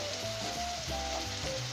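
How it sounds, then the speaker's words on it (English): Macaroni and cheese ingredients, all added together, bubble and sizzle steadily in a pot on the stove, a close, continuous frying hiss with faint stirring and clinks. "I want every ingredient to just simmer in thoroughly"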